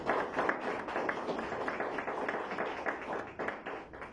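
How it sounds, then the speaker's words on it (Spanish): A church congregation applauds during a Sunday service, a moderately loud, busy patter of many hands clapping that rises and dips slightly over a few seconds. "Dale un aplauso al Señor."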